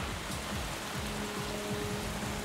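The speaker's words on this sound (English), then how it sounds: "The rain moves in and hits us harder than any rain we have seen before." Heavy jungle rain in the Darien Gap pours down as a dense, steady hiss of drops drumming on surfaces, loud and unbroken throughout with no voices.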